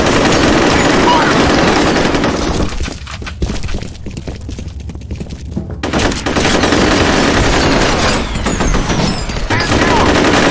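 Heavy automatic gunfire rattles in close, dense bursts during combat in the video game FEAR, with shattering impacts and brief lulls between volleys, loud throughout.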